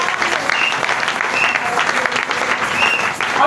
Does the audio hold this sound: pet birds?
no